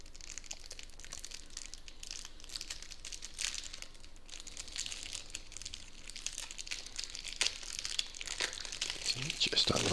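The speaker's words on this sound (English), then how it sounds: "So just unwrapping it off camera" Sealed deck of playing cards being unwrapped, crinkling and tearing plastic wrap in close, irregular bursts that grow busier toward the end, with no talking.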